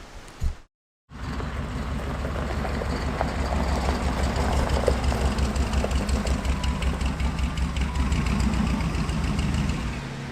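An old abandoned combine harvester's engine runs steadily at a loud, rough idle with a knocking rumble, after a brief cutout near the start.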